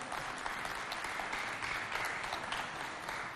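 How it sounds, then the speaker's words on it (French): Audience applause at a Festafrica show on health and sport, a steady wash of many hands clapping together, fairly loud and continuous throughout with no talk over it. "Applaudissez, c'est le Mercato qui vous a offert ces t-shirts."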